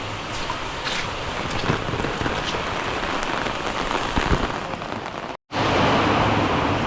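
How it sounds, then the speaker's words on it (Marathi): Heavy monsoon rain pours steadily onto surfaces, a dense close roar that briefly cuts out before resuming just as strongly. "बघा तुम्हाला पाऊस दाखवतो बघा पाऊस किती जोरात आहे बघा"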